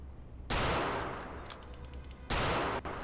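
Heavy automatic gunfire from Return to Castle Wolfenstein bursts in loud and dense for about two seconds, breaks off briefly, then resumes in a second loud burst, with no voices over it.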